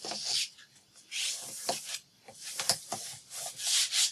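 A paper trimmer slices through a sheet of paper in a series of soft, close scraping and rubbing strokes, fairly quiet and uneven.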